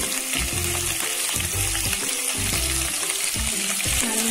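Onion frying in a pan for an Onam ladies finger sambar, a continuous close sizzle with a regular rhythm of scraping strokes under it.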